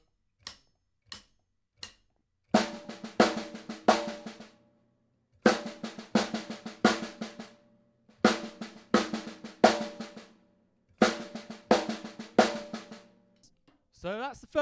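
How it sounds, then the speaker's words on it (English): Drum kit practice of single paradiddles in sixteenth notes, a few isolated taps at first, then rapid bursts of even strokes in three distinct phrases with short gaps between, crisp and close. "So we'd have 3 single paradiddles"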